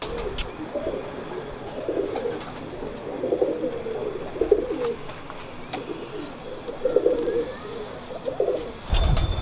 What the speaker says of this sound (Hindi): जी शाह जी, कौन से कबूतरों का शौक करवा रहे हैं?